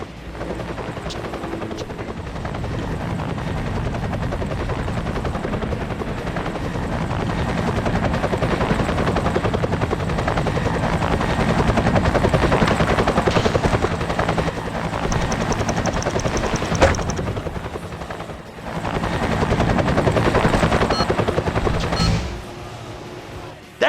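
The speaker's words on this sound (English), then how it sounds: "there's a chopper waiting for you" In the Tony Hawk's American Wasteland video game, a helicopter waits on a helipad, and its loud, steady rotor thump continues throughout, with gunfire-like bursts over it and a brief dip near the end.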